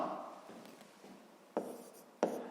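Pen writing a math answer by hand on paper, close and quiet, with soft scratching strokes and two sharp taps.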